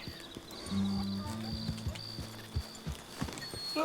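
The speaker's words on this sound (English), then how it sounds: "It's a donkey." A donkey's hooves clip-clop on the ground in Red Dead Redemption 2, a steady run of close hoofbeats with tonal game music underneath and a brief whinny-like call near the start.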